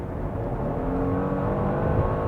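A Genesis G80 with a 3.5-liter twin-turbo engine accelerates hard in sport mode, a steady, rising engine roar heard from inside the car with no talking.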